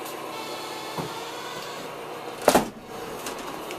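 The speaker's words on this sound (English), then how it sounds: "I'll shut the door." A bathroom door swings shut during demolition work on a gutted room, giving one loud, brief thud close by after a quiet stretch of room noise.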